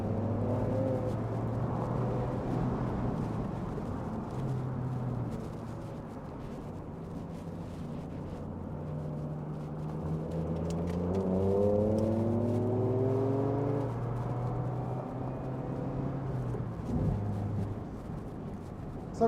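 A 2024 Mazda MX-5 with a 184-horsepower engine pulls hard on a race track, its note climbing steadily through the revs, dipping at gear changes and rising again, close and loud with no talk.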